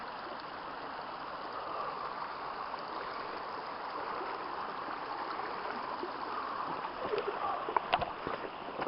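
Water of a woodland stream on a spring trail rushes steadily as someone wades across, with a few small splashes and knocks near the end; there is no talk.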